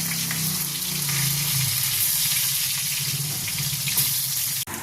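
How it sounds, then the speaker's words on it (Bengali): Eggplant pieces frying in hot oil, a steady close sizzle running throughout, with a low rumble beneath and a brief dropout near the end. "এবার আমি বেগুনগুলো ভেজে নিচ্ছি"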